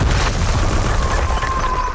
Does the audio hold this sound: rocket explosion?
yes